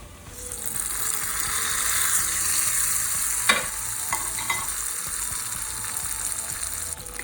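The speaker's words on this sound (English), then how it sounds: "That's the sizzling tadka for my chutney." Loud, close sizzle and crackle of tadka spices hitting hot oil for coconut chutney, with a few sharp pops and light clinks, no one speaking.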